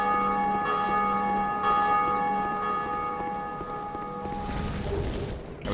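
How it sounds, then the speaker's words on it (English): A large bell rings in Dark Souls 2, its sustained metallic tones repeating and layering for several seconds, loud and resonant, before a burst of broadband game noise near the end. "Now I'm gonna ring the bell"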